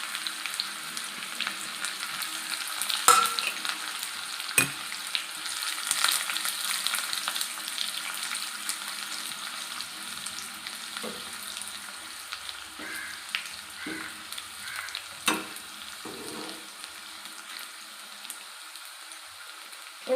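Shallots and curry leaves fry in hot coconut oil with fenugreek, giving a steady crackling sizzle with occasional louder pops and stirring sounds.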